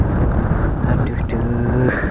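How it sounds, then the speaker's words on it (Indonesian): Strong gusting wind buffets the microphone at a reservoir, a steady close rumble that persists throughout with no speech. "Di sini masih kenceng anginnya lor."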